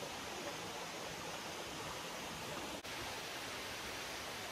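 Erskine Falls in the Otway forest roars as a steady, loud, broadband rush of falling water, constant throughout with no voices, only one brief dip in the wash.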